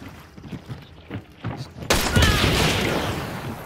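A dragon breath shotgun blast in Hunt Showdown: after quiet ambient shuffling, a single loud burst erupts and trails into a long roaring crackle of flame that slowly fades.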